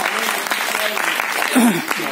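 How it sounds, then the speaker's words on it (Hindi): An audience at an anniversary celebration program in Bhopal claps continuously, a dense, even wash of applause throughout, with a faint voice calling out over it. "एक बार इन लोगों के लिए जोरदार ताली हो जाए।"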